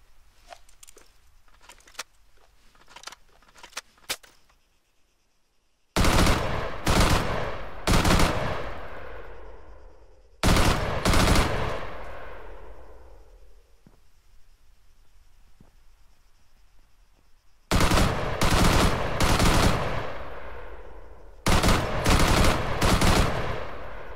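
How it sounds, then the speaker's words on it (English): An MK200 machine gun in Arma 3 fires in several long, loud automatic bursts, rapid and evenly spaced, with quieter clicking and handling sounds in the gaps between them. "Now that's a machine gun I'm more used to, MK200."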